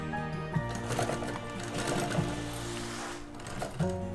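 A sewing machine stitches a small leather sheet onto a zipper strip for a ladies' handbag, running in a fast, steady, whirring rhythm close by with only brief slowdowns.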